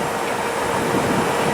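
A long freight train rolls past close by on the Adirondack Railroad, giving a dense, steady rumble and rattle of railcars with no break and nobody talking.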